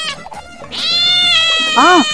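A kitten stuck near a pond meows in a high, rising-and-falling cry that stretches over about a second, then gives a second shorter bent mew near the end, heard over people talking.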